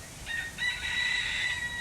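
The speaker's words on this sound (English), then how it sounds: "the rooster is really crowing" A rooster crows in two drawn-out calls, the second longer and louder, carrying clearly over a quiet outdoor backdrop with no voices.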